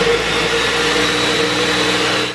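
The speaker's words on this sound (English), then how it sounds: "I don't have a coffee grinder, but I do have a blender" A household blender grinds Kona coffee beans coarse for a French press, a loud, steady whirring motor with a constant pitch that runs unbroken for a couple of seconds before cutting off abruptly.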